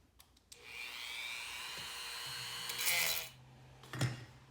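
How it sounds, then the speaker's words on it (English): A high, whining rotary sanding drum grinds casting flash off a vintage Skilsaw 825 steadily for a few seconds, swelling louder near the end, then stops with a brief clatter. "So I'm just gonna knock that off with a sanding drum."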